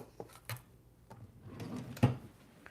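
A drawer in a sewing room is pulled open and pushed shut, with faint scattered rummaging clatters and a sharper bump near the end, quiet and close.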